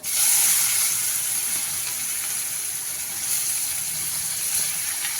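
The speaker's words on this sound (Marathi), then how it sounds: "आता यामध्ये टाकू आपण कांदा" Chopped onion frying in hot oil in a pan for an arbi (taro root) vegetable dish, a steady bright sizzle and hiss with no talk.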